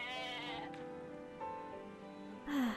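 A goat in the Atelier Ryza video game lets out a long, wavering bleat, with a short higher bleat at the end, over soft game background sound.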